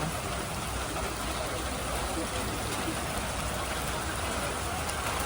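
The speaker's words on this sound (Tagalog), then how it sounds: "Umuulan guys." Steady rain falls on an outdoor morning walk, a dense, constant hiss of drops on surfaces that runs unbroken throughout, with no voices heard.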